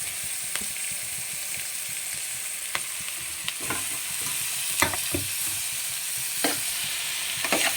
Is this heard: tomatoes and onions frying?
yes